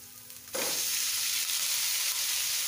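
Boiled noodles drop into a hot pan of carrot and capsicum, setting off a sudden loud, bright sizzle that holds steady and close to the end.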